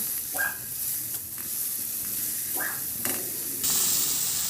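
Garlic sautéing in a hot kawali for a pork ribs dish: a steady, close sizzle runs throughout, with a few brief scrapes of stirring and a louder hiss near the end.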